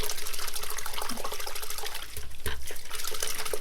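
A plant's root system shaken vigorously in a container of water to loosen soil, producing continuous rhythmic sloshing and splashing, close and fairly loud, with no talking.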